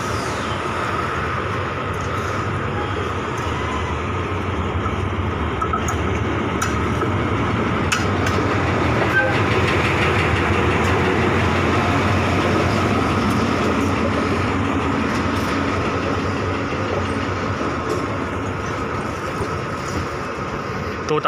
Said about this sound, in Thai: ขอถ่ายรถไฟก่อน